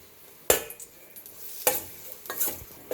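Tamarind is sautéed in oil in a pan for curry leaf thokku, with three sharp scraping stirs over a soft, continuous sizzle, close by and without talk.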